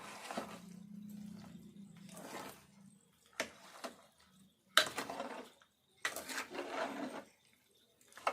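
Wet, squelching stirring comes in several close bursts with short pauses between them as chili powder is worked into an old-style lemon pickle. No one speaks.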